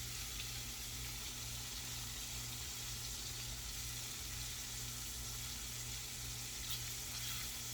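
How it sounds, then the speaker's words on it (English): Pork backstrap frying in a pan gives a steady, close sizzle with faint scraping from the pan throughout, and no talk. "Kind of just scraping the pan a little bit."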